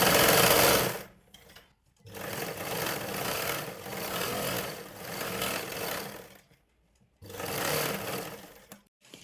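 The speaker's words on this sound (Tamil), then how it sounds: "இப்போ இந்த மாதிரி ஸ்டிச் பண்ணதுக்கப்புறம் சுற்றி தையல் போட்டுக்கலாம்" Domestic sewing machine stitching blouse fabric in several bursts of fast, steady whirring, each one broken by short pauses, loud and close with no talk.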